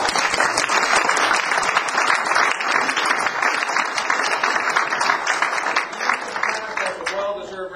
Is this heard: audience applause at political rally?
yes